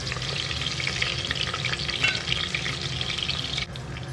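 Sliced onions, about 150 grams, fry in a pan as the base for a mutton curry, a dense close sizzle with stirring scrapes throughout and no speech.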